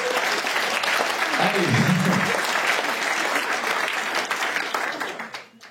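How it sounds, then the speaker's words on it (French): An audience at a Liège stand-up comedy club applauds steadily. Dense clapping holds for about five seconds, then fades out, and one voice briefly calls out over it. "Première fois qu'on m'applaudit là-dessus"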